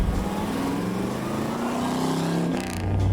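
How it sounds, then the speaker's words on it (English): A 1970s Ford Thunderbird V8 idles and runs close by, a deep, steady low rumble with a barking exhaust note and a slight rise in revs near the end. "it sounds like a bigger engine than a 351, actually"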